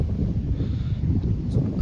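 Steady, gusty wind over a cotton field rumbles against the microphone throughout, a dense low roar with no voices.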